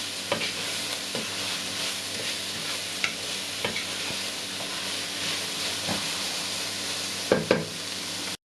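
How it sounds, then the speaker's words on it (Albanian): Chicken pieces sizzle and hiss in a pan, broken by several sharp scraping clicks as a utensil stirs them, with a steady frying crackle running underneath. "Do t'i trazojmë vazhdimisht, derisa të skuqen mirë të dyja, të marrin ngjyrë"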